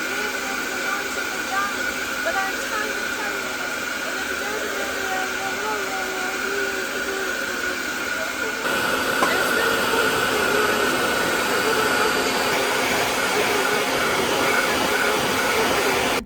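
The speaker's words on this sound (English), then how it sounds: "This is a hairdryer." A steady, close blowing whir runs throughout, rising a little louder partway through, with no talking.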